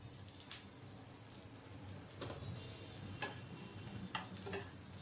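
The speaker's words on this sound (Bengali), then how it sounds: "আর সেই তেলেই আমি পেঁয়াজ দিয়ে দিলাম সামান্য" Chopped onion sizzles steadily in hot oil for an egg and vegetable noodle dish, with a continuous broad hiss, occasional louder pops and light stirring clicks, close up and with no talking.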